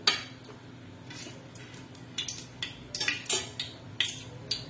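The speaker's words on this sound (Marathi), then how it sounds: "असे हे खडे मसाले आपण पातेल्यात टाकून घ्यायचे आहेत" Whole spices in oil are tossed into a hot pot on the stove, with a burst of sharp metallic clinks and scrapes and a light sizzle underneath, close and fairly loud.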